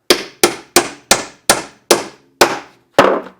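A hammer strikes wood eight times in a steady rhythm, each blow sharp and loud at close range, with short ringing decays between blows.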